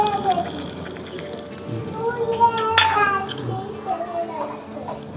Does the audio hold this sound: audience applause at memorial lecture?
no